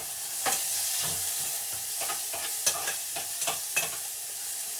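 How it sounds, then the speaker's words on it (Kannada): Onions frying in ghee for biryani crackle steadily in the pan, with repeated scraping stirs and clatters close up, no talking. "ಈರುಳ್ಳಿ ಹಾಕೊಂತ ಇದ್ದೀನಿ ಗೈಸ್."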